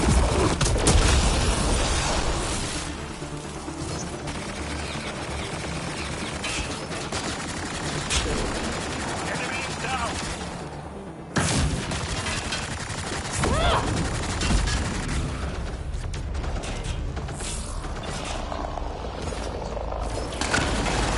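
Sustained gunfire and explosive bursts from a sci-fi shooter game in combat, loud and dense throughout with scattered booms, a brief dip near the middle before the firing resumes.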